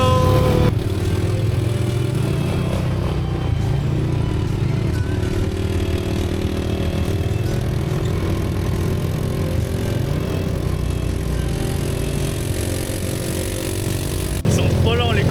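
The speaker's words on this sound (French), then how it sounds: "Ils sont trop lents les quads." Quad bikes (ATVs) ride near Mayon Volcano, with a continuous, fairly close engine drone throughout and people talking over it.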